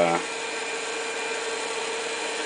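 Small geared DC motor for robotics spinning its shaft fast at around 1000 RPM, a steady high whine with a bright tonal hum after a brief louder start, close and continuous with no talk.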